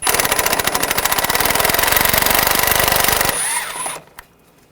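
Power tool spinning out a bolt with a 10mm socket on a 2015-2020 Cadillac Escalade brake assembly, a loud rapid buzzing rattle for about three seconds, then a brief whir and stop.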